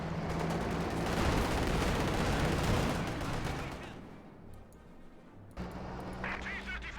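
Dense, loud gunfire and explosions from a Company of Heroes-style World War II strategy game battle between OKW and Soviet forces rumble continuously for several seconds, then drop to a quieter stretch before resuming.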